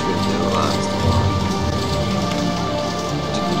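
Steady rain falling on surfaces in the RollerCoaster Tycoon video game, a continuous dense patter throughout with no voices.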